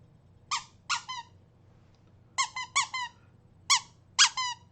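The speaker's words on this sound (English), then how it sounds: "It's a squeaky mouse." A squeaky toy mouse squeezed repeatedly gives short, bright squeaks in pairs and small clusters, close and crisp against a quiet room.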